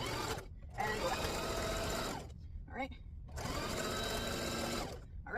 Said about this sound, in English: Now we're going to reverse stitch and go back.